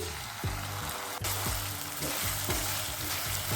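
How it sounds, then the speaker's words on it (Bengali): Onion sizzling in hot oil with whole-spice tempering, a steady close frying crackle broken by regular scraping strokes of a spatula against the pan. "এবার ফোড়নের সঙ্গে পেঁয়াজটা একটু ভেজে নিচ্ছি"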